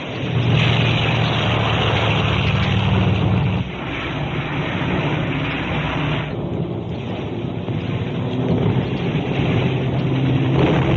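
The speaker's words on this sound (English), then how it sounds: "Catapult plane being launched." A catapult launch of a propeller-driven WWII bomber from an aircraft carrier deck, heard as a loud, steady engine roar. A low rumble fills the background, and the roar eases slightly partway through.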